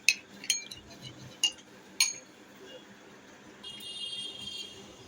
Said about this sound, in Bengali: তো আমি এখন ডিমটাকে ফেটে নিব।